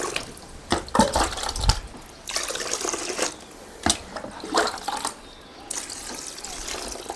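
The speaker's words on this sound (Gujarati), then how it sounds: "પાણી મિત્રો આમાં થોડું વધારે વેડવાનું" Further water poured into a homemade organic fertilizer mix, an uneven run of splashing and dripping with several sharp spills and short pauses, quiet and close, no voices.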